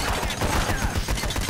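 Rapid gunfire in the video game Payday: The Heist, a dense, loud barrage of overlapping shots filling the whole brief moment.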